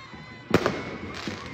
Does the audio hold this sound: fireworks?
yes